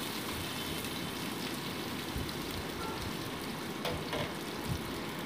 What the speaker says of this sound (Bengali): দিয়ে আমি ভালো মতো আলু টুকরোগুলোকে ভেজে নিচ্ছি।